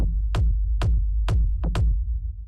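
A techno kick drum sample, the second layered kick, thumps five times with deep, punchy low hits and bright clicky attacks in an uneven pattern, loud and dry with no other sounds.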